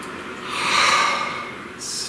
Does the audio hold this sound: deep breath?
yes